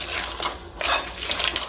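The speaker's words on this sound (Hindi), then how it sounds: "थोड़ा सा हम पानी डालेंगे" Water poured into pakora batter in a kitchen, a short trickling, splashing pour that runs in soft bursts with a brief pause midway, close and fairly quiet.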